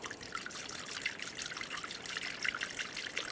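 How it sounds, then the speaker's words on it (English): Coolant poured through a funnel into the radiator of a 2009-2013 BMW 328i xDrive with a 3.0L inline-six, a soft steady trickle of liquid running continuously and quietly, no voices. "Using a funnel, you can add the appropriate coolant."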